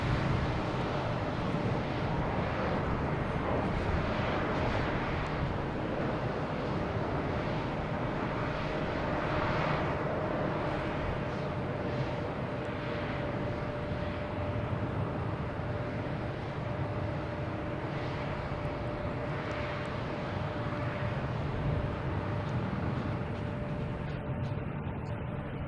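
A Frontier Airbus A321neo arriving from Orlando at Boston Logan roars steadily overhead, a loud continuous jet rumble with a sustained whine that holds throughout, heard alone.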